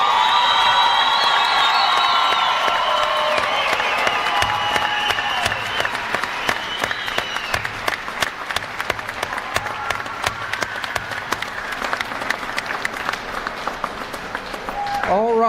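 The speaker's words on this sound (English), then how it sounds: "if you guys would please stand and give them a round of applause for their hard work" Families at a winter graduation ceremony for practical nursing and radiologic technology graduates give sustained, loud applause with scattered cheers and whoops, fading toward the end as voices continue underneath.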